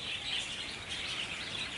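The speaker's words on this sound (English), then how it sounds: "Birds protesting." Several birds chirp and call together around a home garden, a continuous busy twittering at moderate distance that carries steadily with no talking.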